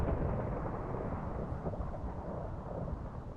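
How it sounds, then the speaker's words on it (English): A Minecraft thunderstorm rumbles loud and low throughout, with deep rolling thunder and no voices over it. "I hope I'm safe stood up here with all that lightning blasting around."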